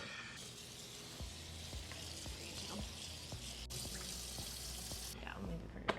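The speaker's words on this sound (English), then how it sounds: "I'm actually gonna rinse them in cold water" Cold water runs steadily from a tap with a hissing splash over noodles being rinsed, a few light clatters and knocks underneath, continuous throughout.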